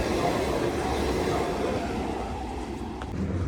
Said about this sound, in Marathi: ट्रेन बघा कसली चालली, ही लांब चालली आहे.